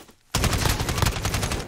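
Rapid automatic gunfire in a first-person shooter video game starts abruptly after a brief quiet moment and continues as a dense, loud, close burst of shots.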